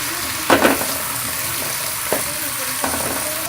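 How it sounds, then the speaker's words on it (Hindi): Sliced onions sautéing in hot ghee in a pot, with a close, constant sizzle broken by a few louder stirring scrapes. "अब हम इसमें प्याज डाल देंगे और इनको सौटे करेंगे।"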